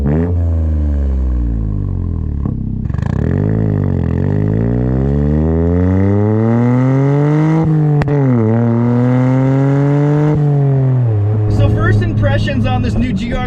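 A modded Toyota GR Corolla's 1.6-liter turbo engine pulls hard through the gears, its pitch climbing steadily and dropping at each shift before rising again, loud and close from start to finish.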